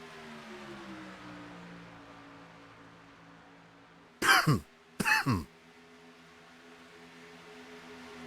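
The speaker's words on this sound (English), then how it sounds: "you'll probably hear me coughing a lot" Two close, loud bursts of coughing and throat clearing from a commentator during Daytona sim racing broadcast commentary, breaking into a quiet steady background hum.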